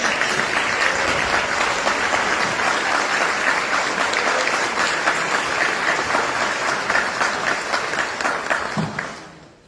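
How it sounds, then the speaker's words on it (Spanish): A large live audience at a televised event gives loud, sustained applause, dense clapping that holds steady for several seconds before tapering off at the end. "un aplauso enorme"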